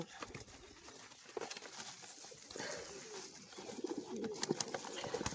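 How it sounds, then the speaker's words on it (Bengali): Pigeons coo softly and repeatedly while pecking at puffed rice, low throaty calls mixed with light scratching and shuffling nearby, fairly quiet, with no voices. "দেখুন মুড়ির মতো খাবে পায়রা সব"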